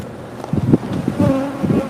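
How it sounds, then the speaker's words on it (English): Honeybees, including remnant bees, buzz around a hive on a cold morning in Tombstone, a steady droning hum with a few louder passes as individual bees fly close. "These are all remnant bees."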